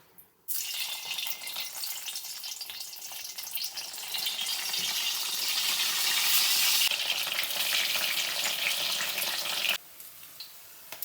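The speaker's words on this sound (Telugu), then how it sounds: "ఇప్పుడు నూనె కొంచెం కాగాక ఈ కాకరకాయలు ఇట్లా కొంచెం నీళ్ళన్నీ పోయేలాగా ఇట్లా పిండి ఇవి ఇందులో వేసుకో" Bitter gourd pieces dropped into hot oil for traditional stuffed kakarakaya, a loud steady sizzle that starts suddenly and runs continuously, with faint splashy crackle, before cutting off near the end.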